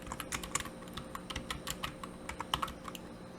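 Rapid, uneven keystrokes on a computer keyboard while entering a measure formula in Power BI, clicking steadily at close range for the whole stretch with no talking.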